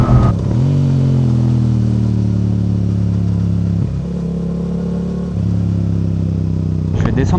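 A Yamaha R7 motorcycle pulls hard with quickshifter gear changes, its engine droning loudly near the rider, with quick dips in pitch marking each upshift and the rider speaking over the engine.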